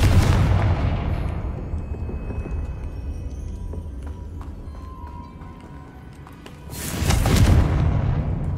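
In the video game Hogwarts Legacy, the Confringo fire spell gives a loud, booming explosion that rumbles and decays over a few seconds, followed by a second heavy blast.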